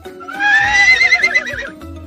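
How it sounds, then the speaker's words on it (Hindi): A horse whinnies loudly and clearly, a single long neigh with a wavering, descending pitch lasting well over a second, standing alone with no talk. "यानी घोड़े"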